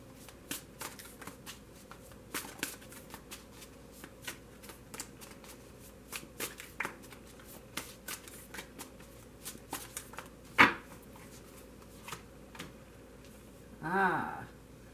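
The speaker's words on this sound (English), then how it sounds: "so I'm only going to shuffle it for a moment" A pre-shuffled tarot deck is shuffled in quick, soft riffling bursts, a steady patter of card flicks close by with one sharper snap near the end, heard alone without talk.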